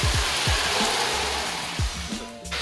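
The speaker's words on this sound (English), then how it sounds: "It's definitely raining." Steady hiss of rain falling, a dense continuous wash with a few low thumps and knocks underneath, close by.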